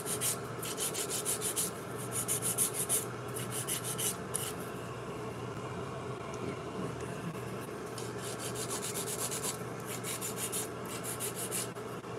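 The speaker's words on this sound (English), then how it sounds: "Now we're gonna reshape her nail." A nail file reshaping a fingernail during a nail refill, with close, steady rhythmic rasping strokes in bursts and a brief pause in the middle.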